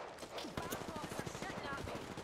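Gunfire rattles in an Apex Legends match as a fast stream of repeated shots, fairly quiet and mixed with a voice talking over it.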